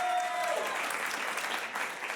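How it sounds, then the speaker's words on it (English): An improv comedy show audience claps to vote for a performer, a dense burst of applause filling the room steadily and close, with a brief whistle-like tone at the start. "clap only for the film you want to see go on"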